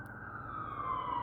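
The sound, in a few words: ambulance siren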